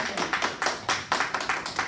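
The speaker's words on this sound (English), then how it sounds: "come on and give her a little hand clap welcome" Audience members clap a welcome for a speaker being called up at a free VA mortgage workshop, a brief patter of hand claps rising and falling in uneven bursts, fairly close, with no talk.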